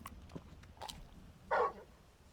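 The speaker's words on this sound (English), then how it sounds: "You're just a big puppy, aren't you? A very big puppy." Torgal, the large dog companion in Final Fantasy 16, gives a single short bark amid quiet game ambience, fairly close and clear.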